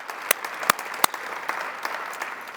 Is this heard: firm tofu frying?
no